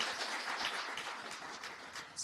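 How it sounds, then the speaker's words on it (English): Audience applause at the launch of a national disability policy, a steady wash of many hands clapping at moderate distance for about two seconds, with no speech over it. "Let's give her a round of applause."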